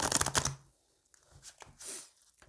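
Lenormand oracle cards are shuffled close by, a quick flurry of riffling card noise at the start followed by softer shuffling and handling.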